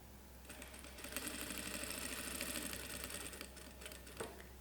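Sewing machine stitching bias binding around a mitred corner, a steady rapid mechanical whir of needle strokes running close and continuous, pausing briefly near the end.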